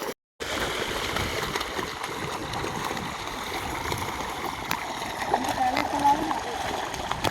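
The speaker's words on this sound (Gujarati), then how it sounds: "મમ્મી પાણી કેટલું ઉડાડે છે" Water splashes and gurgles steadily at close range, with a voice heard faintly over it now and then.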